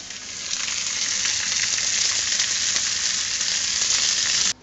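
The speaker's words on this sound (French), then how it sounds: "faites revenir l'oignon finement émincé et les petits pois." Finely chopped onion and peas sautéing in a pan, a steady, loud broadband sizzle that holds evenly throughout with no talking, then cuts off abruptly at the end.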